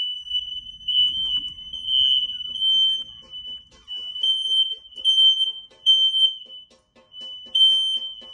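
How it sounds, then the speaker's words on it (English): A smoke detector fire alarm going off in a home, set off by water leaking from a damaged roof through the detector: a steady, piercing high-pitched beep that holds almost unbroken for several seconds, loud and close, with no talk. "your fire alarms are going off because water's leaking through your smoke detector"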